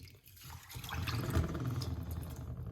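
Moringa leaves being washed in water, close-up sloshing and dripping with a brief liquid swirl, steady and fairly quiet.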